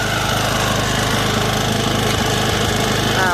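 Small snow blower engine running in neutral gear, a close, steady buzzing putter with a fast rhythmic pulse, loud and continuous with no talk.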